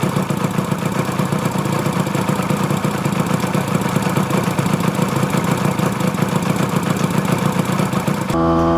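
A 1966 Yamaha YL1 100 Twin Jet vintage two-stroke twin motorcycle with points ignition runs steadily close by, a loud, buzzing, even engine note that cuts off abruptly near the end.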